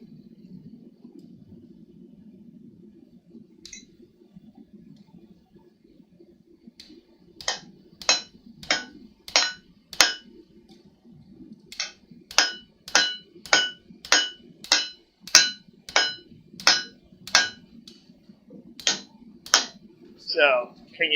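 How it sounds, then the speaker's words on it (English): Hammer forging a san mai deba knife blade: a steady series of sharp metallic strikes, about a dozen evenly spaced blows, close and loud over a low background hum. "I'm going to come in with my hammer"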